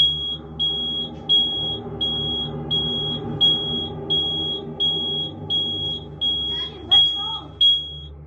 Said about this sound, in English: a loud bang is heard, followed by the smoke detectors going off for no reason.